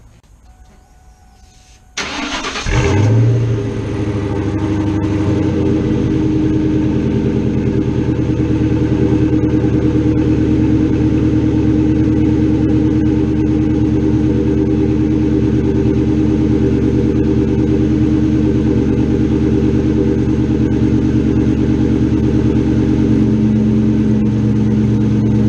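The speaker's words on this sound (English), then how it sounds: "A little cold start up for a second." A Ford Mustang 4.6L 2V engine cold-starts with a sudden loud crank and catch, then settles into a steady, loud, rumbling idle that holds unchanged for over twenty seconds.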